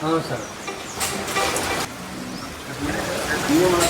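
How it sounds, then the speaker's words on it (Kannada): Steady rain hisses heavily throughout, with people talking nearby over the downpour. "ಮಳೆ ಜೋರು ಐತ್ರಿ"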